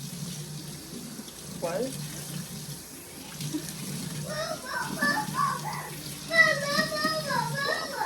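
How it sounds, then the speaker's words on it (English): Running tap water pours into a sink as a sponge is rinsed, a steady close splashing rush, while an adult speaks briefly and children's voices chatter in the background. "I gotta wash my sponge."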